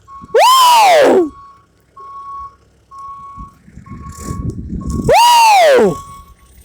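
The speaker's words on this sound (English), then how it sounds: "This is so much better than that horrible backup sound." A truck's backup alarm gives two loud, sweeping warbling bursts a few seconds apart, with a steady faint tone and rumbling engine and mechanical noise between them.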